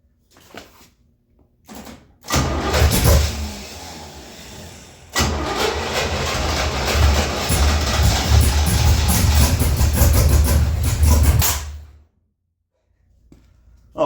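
A tunnel-ram Gasser's engine cranks in short bursts, then catches and runs loud and rough, stumbling briefly around five seconds before roaring steadily until it cuts off, leaving near silence.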